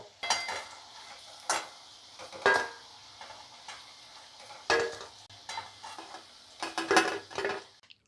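Mini samosas frying in oil in a pan, with a steady soft sizzle broken by several sharp clinks and scrapes of a utensil turning them, close and moderately loud, no voices.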